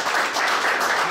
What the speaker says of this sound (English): I'll give you a round of applause.